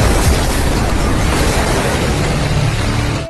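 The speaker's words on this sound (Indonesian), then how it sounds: "Tidak berselang lama, sebuah ledakan yang begitu besar terjadi." A huge, roaring blast of broadband noise from a large explosion at a café, staying loud and rumbling for a few seconds before cutting off.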